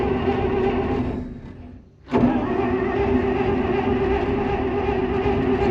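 A Massey Ferguson 82 combine engine turns over loudly and close, a steady mechanical drone that sags and nearly dies for a moment before surging back to a sustained run.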